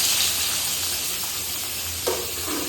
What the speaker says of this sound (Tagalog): Pwede na natin ilagay yung itong sibuyas. Pwede na natin igisa.